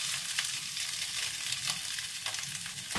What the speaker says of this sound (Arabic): ونفس المقلاة اللي سويت بيها كرات اللحم راح اخلي 200 غرام فطر او عيش الغراب بعد ما قطعته